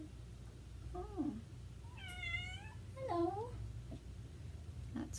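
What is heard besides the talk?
cat meowing in the background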